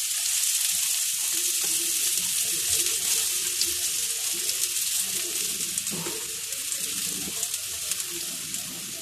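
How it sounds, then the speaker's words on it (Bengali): Chopped onion hits hot oil in a kadai while an aloo chop filling is being made, giving a continuous close sizzle with light scraping and stirring clatter, and no talking. "তেল আমার গরম হয়ে গেছে, পেঁয়াজ কুচি দিয়ে দেব।"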